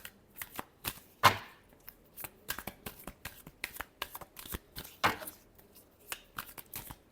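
Tarot cards are shuffled by hand in quick, irregular riffles and slaps, close and crisp, with a few louder flicks standing out and no talk.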